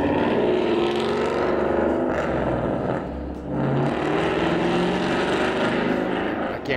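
A loud Ford Mustang engine roars steadily past on a street in Chattanooga, close by and sustained, with a brief dip in the middle before the rumble swells again.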